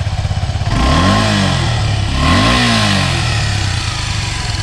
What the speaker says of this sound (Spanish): vamos a encender la motocicleta para escuchar el sonido